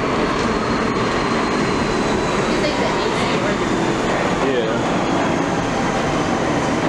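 A New York City subway train rumbles loud and close, a dense continuous roar with faint wheel squeals and rattling, sustained throughout without pause.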